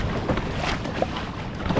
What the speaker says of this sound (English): Big wave coming now.